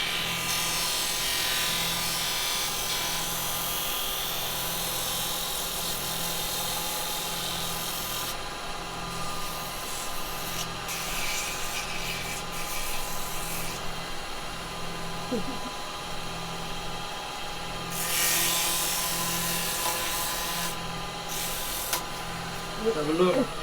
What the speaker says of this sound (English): See if we can sand a little bit on this.